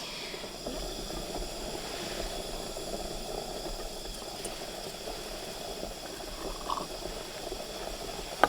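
Water boiling steadily in a pot over an outdoor camp fire in a Finnish recreational forest at night, a continuous bubbling seethe with faint crackles and no talk.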